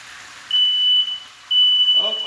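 A kitchen smoke alarm goes off while scallops sear and risotto cooks, sounding two sustained high-pitched beeps, close and loud, with a voice starting at the end.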